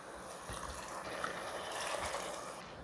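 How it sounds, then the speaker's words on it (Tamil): Water poured from a cup into a cooking pot for Kashmiri pulao, a soft continuous splashing gush lasting a few seconds at close range. "தண்ணி வந்து இந்த கப்பால் 2 கப் விடும்."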